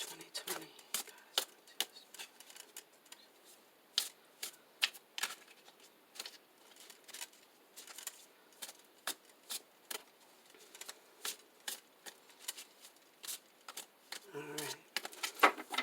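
Repeated quick riffling bursts of tarot cards being shuffled, crisp and close, spaced irregularly across the clip with quiet gaps between.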